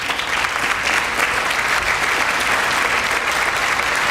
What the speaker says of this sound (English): they're cheering for American strength